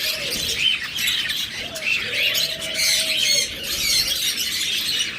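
Budgerigars in a breeding aviary chatter and squawk continuously, a dense mix of shrill chirps and warbles from several birds close by, with no voices.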